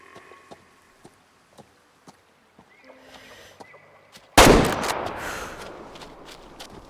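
A rifle shot rings out in the hunting game Way of the Hunter: after quiet ticking ambience, a single sharp, loud crack hits and then rolls away in a long fading echo.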